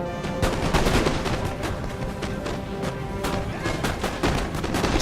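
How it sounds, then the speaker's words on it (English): Dense musket volleys crackle in Napoleon: Total War as musketeers and Silesian Schützen fire, sharp overlapping shots popping irregularly throughout over a steady rumble of battle noise. "he's getting shot by musketeers and Silesian Schützen"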